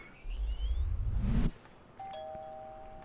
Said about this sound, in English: Let's knock or ring the bell.